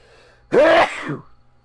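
A single loud sneeze from an adult man, with a short sharp burst and a brief tail, standing out against a quiet background.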